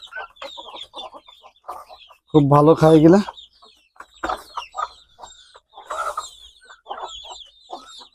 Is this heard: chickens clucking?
yes